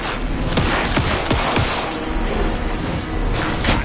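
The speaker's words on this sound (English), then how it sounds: "Anderson, pin him down with gunfire for me to get the light on him." Gunfire in the video game Alan Wake 2 rattles out in a dense, loud burst of shots and thuds over a constant roaring game background, continuing for about four seconds with no talk.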